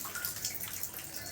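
Water is poured over a man being bathed with water from seven sources at a Guru Purnima ritual, a steady close hiss of splashing and streaming water with no talk.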